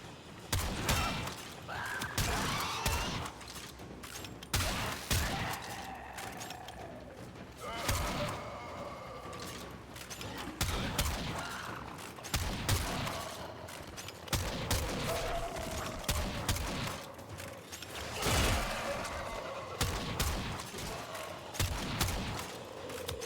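Gunfire in the survival game Raft, repeated sharp shots in irregular bursts with thumping impacts, loud and close, with a voice talking intermittently underneath.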